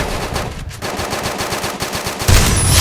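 Rapid automatic gunfire from a shooting video game, a dense burst of evenly spaced shots lasting a few seconds, loud and close with no talk over it.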